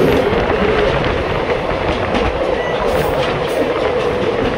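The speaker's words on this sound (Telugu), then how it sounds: "ఆపోజిట్లో అయితే ట్రైన్ అయితే వస్తుంది." Another train rumbles past on the opposite track near Sullurpeta, heard from aboard a moving express, a loud, steady wash of wheel and carriage noise with faint clickety-clack running throughout.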